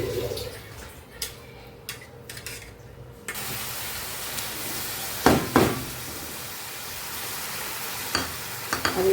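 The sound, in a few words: ground spices added and stirred in frying pan, sizzling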